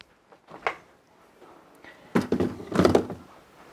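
A home freezer door handled while putting away a half-pint container of a low-carb dessert: a soft thud early on, then a louder clunk and rattling bump as the door opens and shuts, close by in a quiet kitchen.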